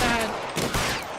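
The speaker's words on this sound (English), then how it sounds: "Я стреляю, пули просто не долетают." Rapid gunfire from a shootout in the video game L.A. Noire, with several sharp cracking shots close together over a steady, dense game background.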